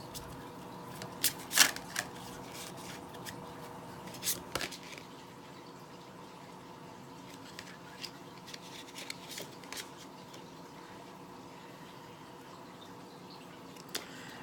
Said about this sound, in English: Let's pull one more card from these.